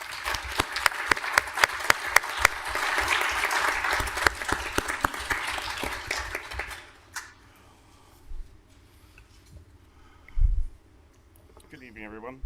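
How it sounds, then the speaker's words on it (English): A city council meeting audience gives a round of applause that is dense and sustained for about seven seconds, then abruptly stops, leaving a quiet room with a few faint shuffles and thumps. "How about now, a round of applause"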